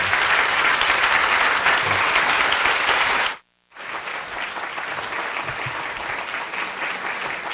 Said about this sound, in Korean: 모두 여러분 기립하셔서 뜨거운 박수로 맞아주시기 바랍니다